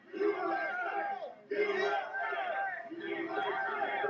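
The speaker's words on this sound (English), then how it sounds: "Incredible crowd here. People chanting." A large protest crowd chants and shouts in unison in rhythmic bursts, loud and massed, with one brief pause before the chanting resumes.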